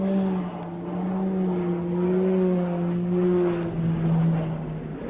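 Aircraft engine droning steadily as the plane spirals in a dive, a sustained tonal hum with slowly wavering pitch that stays fairly loud throughout, heard on its own without talk.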